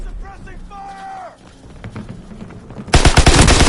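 Gunfire in the Uncharted video game, a loud burst of rapid shots erupting near the end after voices and game chatter.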